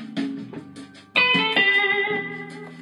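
Studio overdub electric guitar lick from a song, panned hard right: a short opening phrase, then a bright held chord that rings out and sustains under a quieter rhythm part, with no talking.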